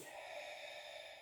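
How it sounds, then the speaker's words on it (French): A steady, soft breathy exhale drawn out for about a second during a Pilates exercise, faint and close, with no talking over it. "Allez, je souffle."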